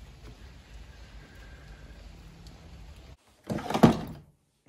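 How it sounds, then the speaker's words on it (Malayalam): Steady rain falls outside, a faint even hiss heard from indoors for about three seconds before a door thuds shut nearby. "നല്ല മഴയാണ്."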